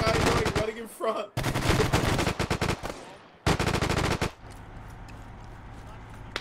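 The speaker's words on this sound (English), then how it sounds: "That's a friendly shooting at us." Automatic gunfire from ARMA 3 rattles in long, loud bursts broken by short gaps, then drops away to a quiet low hum at the end.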